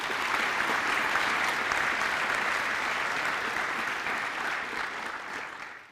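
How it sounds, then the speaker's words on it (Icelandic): A graduation ceremony audience claps for a new graduate, broad even applause from a large crowd that stays strong and then tapers off near the close. "ég bið ykkur að klappa fyrir henni"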